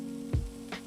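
Potatoes frying and crisping in a pan with chilies, a faint steady sizzle broken by two short scraping stirs, no voices.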